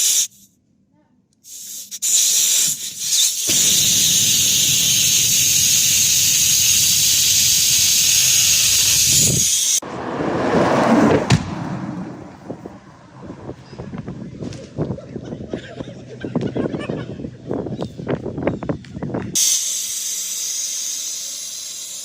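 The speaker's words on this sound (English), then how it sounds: "I would pull the whole metal part of the valve stem out" Pressurized air hisses steadily and loudly out of a Ford Fiesta tire's valve stem for several seconds, then stops abruptly and gives way to scraping, clattering handling noises.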